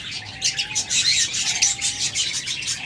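A pair of budgerigars chirps in quick, bright bursts, close and continuous, with no talking over the calls.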